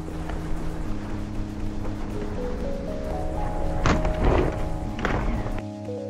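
A car with its driver-assistance systems disabled strikes a moving pedestrian dummy target during a crash test. A steady low vehicle drone builds to a dull impact thump with rattling, followed by another clatter.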